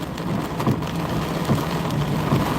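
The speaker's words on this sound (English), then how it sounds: "look at the torrential downpour." Heavy torrential rain pours down during a Kansas storm, a dense steady hiss with occasional low thumps, loud and continuous with no voices.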